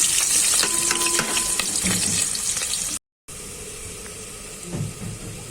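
Sliced onions tipped into hot oil while cooking a vegetable pulao, giving a steady close sizzle and frying hiss with some stirring, a brief gap, then quieter continued frying.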